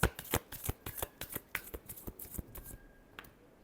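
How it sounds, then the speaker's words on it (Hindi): A deck of tarot cards is shuffled by hand in quick, crisp riffling bursts, about a dozen sharp snaps in steady rhythm close up, tapering to a final flick and quiet. "last shuffle"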